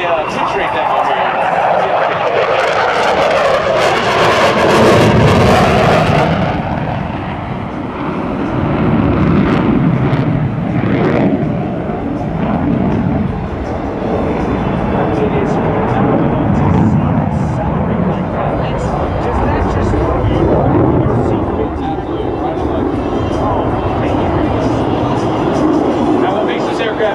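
An F/A-18F Super Hornet flies a pitch rate demo at a military open house, with a loud, sustained jet roar that surges and rumbles under a commentator's voice.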